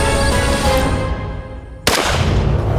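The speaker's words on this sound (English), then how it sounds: "Dropped him. Good shot, Jim." A single sharp, loud rifle shot cracks out during a hunt and cuts through quiet outdoor background noise.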